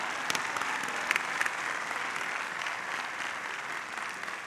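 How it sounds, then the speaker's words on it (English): Steady, dense applause from a large audience at the 2016 Webster University commencement ceremony, continuous and even throughout, with a few sharper nearby claps standing out early on. "It's okay to clap, come on."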